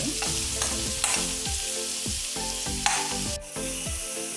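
Frying in a pan while making shavige upkari, with a continuous sizzle and rhythmic spatula strokes scraping and knocking against the pan about twice a second, close and clear.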